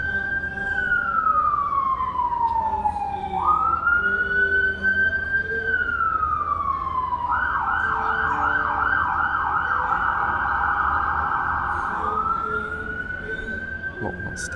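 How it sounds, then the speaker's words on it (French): An ambulance siren wails and then shifts to a rapid yelp before returning to the wail, loud and passing close by over traffic rumble. "Bon, non, c'était pas la police, c'était une ambulance."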